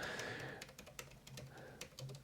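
Irregular keystrokes on a computer keyboard, clicking in uneven bursts at close range, with no talking during the typing.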